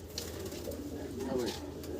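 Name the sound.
pigeons cooing, red Lakha pigeons at a farm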